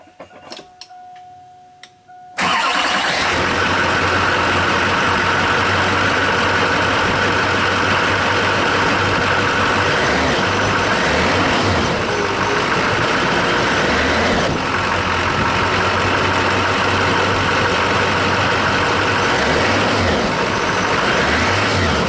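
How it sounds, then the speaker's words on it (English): A 2002 Chevy 2500HD with the 6.6L Duramax diesel cranks and fires after a short quiet moment, then settles into a loud, steady idle with a rhythmic clatter close by for the rest of the clip. "I'll hook the batteries up and I'll give her a start and see how she sounds and looks."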